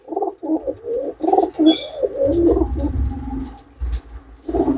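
Pigeons bred for flying, kept for sale, coo almost without a break in a run of throaty, pulsing calls close by, over a low rumble of movement and handling in the middle.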